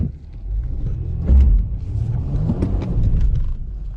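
A car engine revving as its wheels spin on a snowy, unmaintained trail, giving a loud, close, continuous low rumble that surges in a couple of swells.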